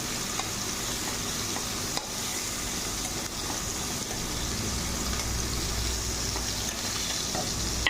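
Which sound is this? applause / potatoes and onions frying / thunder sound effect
potatoes and onions frying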